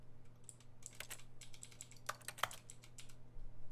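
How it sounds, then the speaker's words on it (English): Computer keyboard typing in The Stanley Parable office game, a quick burst of several soft key clicks over a steady low hum, close and fairly quiet, with no voices. "Press T on your keyboard."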